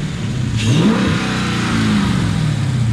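The 6.4-liter V8 of a 2018 Dodge Charger Scat Pack revs up loudly from idle, its deep exhaust note rising and then holding at a steady high drone, close by and with no one speaking.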